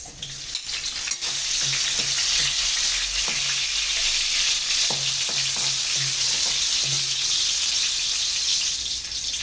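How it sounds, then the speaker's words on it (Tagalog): Garlic and onion hit a hot pan for a Filipino string bean sauté and sizzle loudly and steadily, with a few soft utensil knocks over the constant frying hiss. "So gisa na natin ang ating bawang. Sibuyas."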